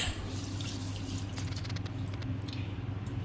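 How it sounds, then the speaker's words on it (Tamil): Lentils being rinsed in water for Pongal, soft splashing and dripping with a light squishy swish, close and quiet, no talking. "பருப்பு போட்டு கொஞ்சம் அலசிக்கோங்க."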